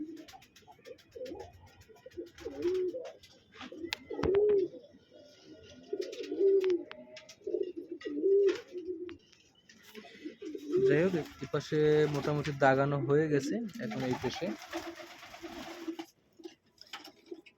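Pigeons coo in low rolling phrases near a nest where a chick has just hatched, while someone talks over and between the calls.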